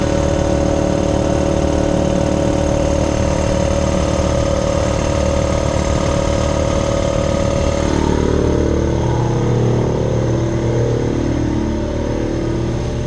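A loud Husky air compressor with a swapped head runs close by with a steady mechanical chugging drone, and its tone shifts partway through as it keeps building pressure.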